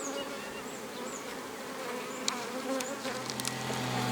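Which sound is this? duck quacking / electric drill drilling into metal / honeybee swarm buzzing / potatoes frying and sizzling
honeybee swarm buzzing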